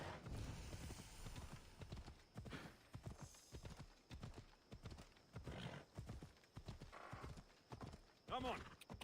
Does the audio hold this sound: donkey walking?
yes